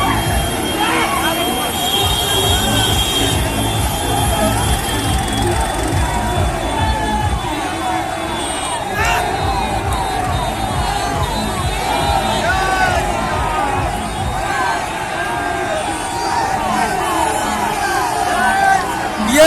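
Large crowd gathered at the Salemgarh toll plaza in Kushinagar, a dense steady roar of voices and babble with a low rumbling undertone, loud and continuous throughout, someone talking over it.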